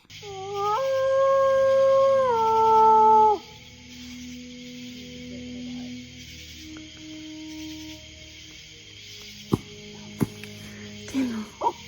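A voice imitates a wolf howl, a long wavering rising-then-falling wail lasting a few seconds, followed by quieter ambient sounds and a few sharp knocks.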